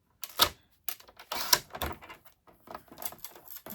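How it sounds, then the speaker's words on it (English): Paper trimmer cutting through white cardstock at a craft table, giving a handful of sharp, dry clicks and slicing scrapes in an irregular rhythm, close and fairly quiet with short silences between strokes. "I'm going to trim this down, and I need my paper trimmer right here."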